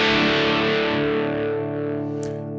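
An electric guitar through a tube amp at low volume rings out as a sustained, slightly distorted chord with a chorus-like shimmer that slowly decays, close and alone.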